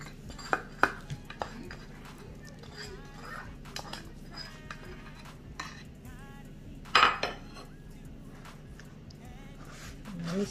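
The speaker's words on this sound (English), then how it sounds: "We stir it all in there." A spoon stirs dessert batter in a bowl, producing scattered clinks and scraping knocks against the bowl in an irregular rhythm, close and fairly soft, with a couple of louder clatters.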